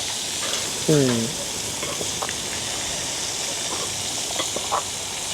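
Salt-soaked vegetables fry in hot oil in a village home kitchen, a loud continuous sizzle and crackle close by, with a brief vocal-like sound near the start.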